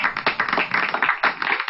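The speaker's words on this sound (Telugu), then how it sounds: "అందరూ గట్టిగా క్లాప్స్" Children in an online kids' music class clapping loudly together, a quick run of sharp, uneven claps that continues without a break and is heard without any talking.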